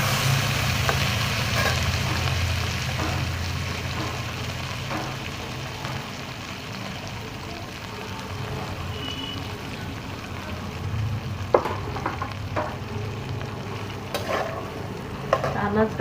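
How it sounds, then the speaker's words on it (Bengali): Vegetables frying in a pan for veg pulao, a steady sizzle lasting throughout, with occasional scrapes and clinks of a spoon stirring, close and moderately loud. "আনাজটাকেও এর সাথে একটু ভালো করে ভেজে নেবো"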